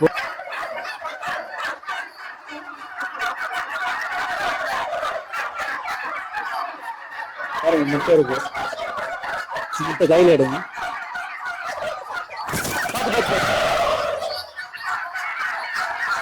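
Turkeys about 45 days old gobble repeatedly in bursts, loud and nearby, with people talking between and over the calls and a burst of flapping noise.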